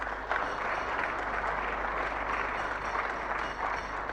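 A banquet-hall audience at a gala dinner applauds in a steady, dense wash of clapping that holds at an even level throughout, with no voices rising above it.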